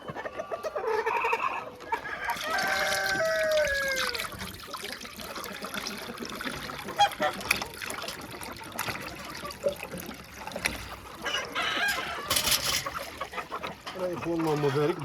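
Hens cluck and chatter in a farmyard coop as they are shut in for the evening, a steady busy flock sound with trickling water and someone talking over it; no distinct rooster crow stands out.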